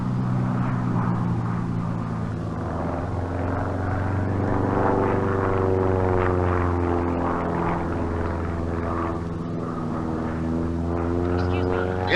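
Propeller airplane engine droning steadily at close range, its pitch slowly shifting as it runs for several seconds, with someone speaking over the noise.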